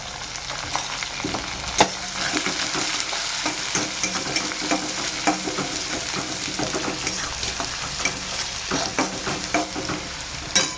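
Onion frying in hot oil with curry leaves, garlic and mustard seeds, giving a steady loud sizzle with crackles and occasional stirring scrapes and no voices.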